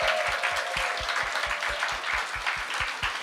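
Audience applause at a church family summer retreat, a steady patter of many hands clapping together, fairly close and unbroken from start to finish with no talking.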